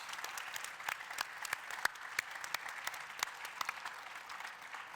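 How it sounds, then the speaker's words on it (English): A live audience at a volunteer expo applauds a sports panel, steady dense clapping with sharp individual claps standing out, moderately distant and sustained throughout with no speech over it. "please give me a massive round of applause for our panel here, Phil Smith, Sam Barlow and Hannah Mills."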